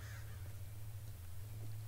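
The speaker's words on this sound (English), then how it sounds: "It's actually a bag of crows." Crows cawing in the video game The Darkside Detective, a low steady drone filling the background with faint caws barely rising above it, no talk.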